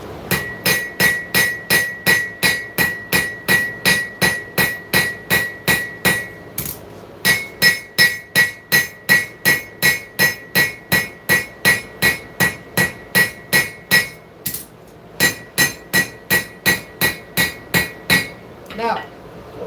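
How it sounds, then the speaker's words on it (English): A heavy hammer forging steel, striking in a long steady run of loud, close, ringing metallic blows at about two per second, with a few brief pauses between sets. "Whenever I do this, this is a heavier hammer."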